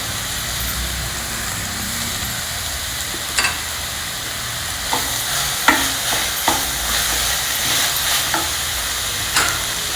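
Spices and sprouted whole green moong being stirred in a pot with a spoon, a soft steady sizzle underneath and a few light scrapes and taps against the pot, no one speaking.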